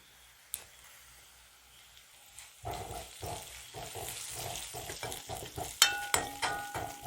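Onions fry with a little salt in a pan for gooseberry pickle, a soft sizzle under repeated scraping strokes of a spoon stirring, close and quiet, with a dog barking faintly at times.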